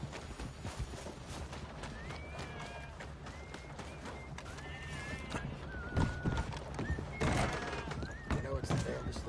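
Horse whinnies and clip-clopping hooves in Red Dead Redemption 2, repeated neighs over steady hoofbeats and game ambience, with voices talking throughout.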